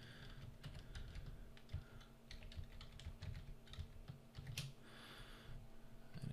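Fingers type steadily on a computer keyboard at a desk, a quiet run of irregular clicks and key taps with short pauses over a low background hum.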